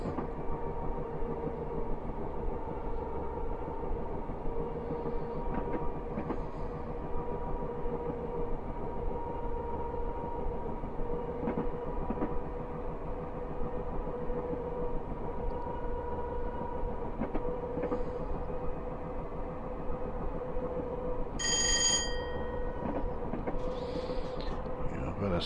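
Class 423 4-VEP electric multiple unit in Train Simulator Classic, coasting uphill between Tonbridge and Hastings, with a steady rolling rumble and hum, light creaks and a brief high squeal late on.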